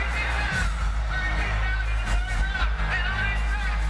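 Sizable, fired-up boxing arena crowd at the MGM Grand before the Cotto versus Mayorga fight, a continuous roar with scattered whoops and yells and a low rumble throughout.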